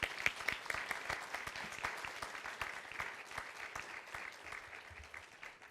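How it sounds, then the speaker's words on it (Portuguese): Audience applause greets Governor Flávio Dino of Maranhão at a Brazil Conference session at Harvard and MIT, steady clapping from many hands that fades slightly toward the end. "queria uma salva de palmas para ele também"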